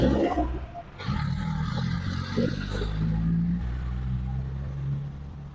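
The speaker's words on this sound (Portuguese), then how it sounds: "passou um caminhão aqui fazendo um barulho horrível" A truck passes along a residential street beside a small square in Maricá, a loud, low rumbling roar that swells in after a second and stays heavy and close for several seconds.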